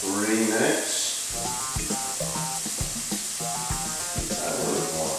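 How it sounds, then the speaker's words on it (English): Chopped onion sizzles in a pan on the stove while cooking for a duck orange stir-fry, a steady hiss broken by scraping, clattering stirring strokes, with someone talking over it. "now that you have the onion simmering"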